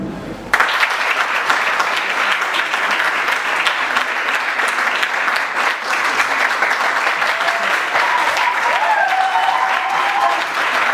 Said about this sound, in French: Sans plus tarder, je vous demanderai d'applaudir fortement pour Madame Christelle.